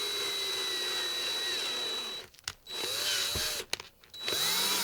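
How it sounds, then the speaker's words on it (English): Small power drill bores a hole in the hood of a die-cast toy car, a steady high whine that cuts out twice in short stutters, then spins up again close to the mic. "you need to drill a place in the hood for a little hood scoop"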